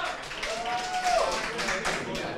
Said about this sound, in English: a big round of applause from our audience here